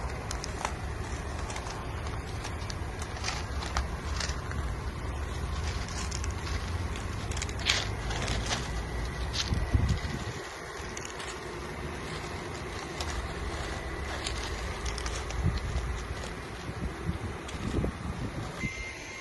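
A 2016 Volkswagen Crafter dump truck tips its body to one side, giving a steady mechanical and hydraulic hum that runs throughout with small knocks and clunks, fairly close and with no talk.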